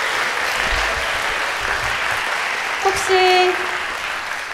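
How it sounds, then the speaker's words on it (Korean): Concert audience applause at an Ark Ensemble performance, a dense, sustained wash of clapping from a crowd, with a brief voice cutting through near the end. "우리 박광식 선생님께 큰 박수 한번 보내주세요"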